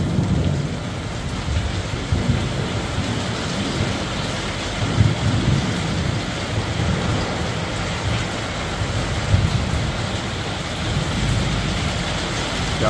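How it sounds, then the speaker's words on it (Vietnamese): Heavy afternoon rain pours steadily over Saigon during a storm that brought hail, a dense continuous roar with a few low thunder rumbles rolling beneath it and no voices. "sấm sét lớn."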